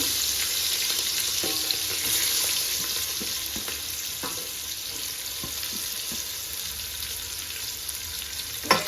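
Onions and green chillies fry in hot oil for an egg dum biryani, giving a steady, close sizzle with scattered stirring clicks and scrapes throughout, and no one talking.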